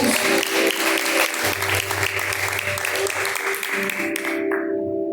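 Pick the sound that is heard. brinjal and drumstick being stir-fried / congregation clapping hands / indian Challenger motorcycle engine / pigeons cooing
congregation clapping hands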